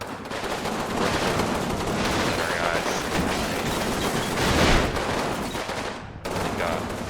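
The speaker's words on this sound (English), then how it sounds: "Now we got a pretty good firefight going on over here." Sustained gunfire rattles through a firefight in the war game Combat Mission, dense overlapping bursts and volleys running continuously, loud and close, with a brief dip near the end.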